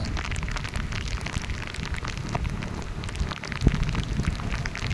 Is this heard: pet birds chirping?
no